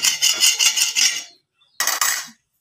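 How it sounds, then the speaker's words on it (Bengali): A flat metal tawa griddle is wiped clean with a cloth in a home kitchen, two bursts of close scraping and rubbing separated by a brief pause. "আর তাওয়াটা একটু সুন্দর করে পরিষ্কার করে নেব"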